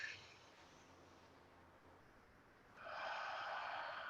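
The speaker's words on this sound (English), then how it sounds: "Breathe in. And then breathe out 5 seconds" Slow, deep breaths sound close to the microphone, a long soft airy inhale followed by a louder, rushing exhale, with quiet room hiss between them.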